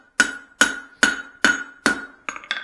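Five evenly spaced, ringing hammer blows strike a red-hot Swedish-style cross peen being forged, followed by two quicker, lighter taps at the end, each impact sharp and close.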